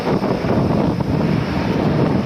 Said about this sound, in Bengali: প্রচন্ড বাতাস সমুদ্রের।